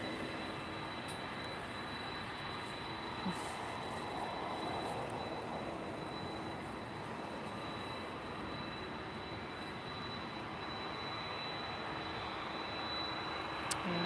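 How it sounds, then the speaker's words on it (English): A Star Air Boeing 767 takes off at Lisbon Airport, its engines a steady, broad roar that holds evenly throughout at moderate distance, with no talk over it. "I think I'm gonna wind down just after the Star Air takes off. We're gonna watch the Star Air, the 767"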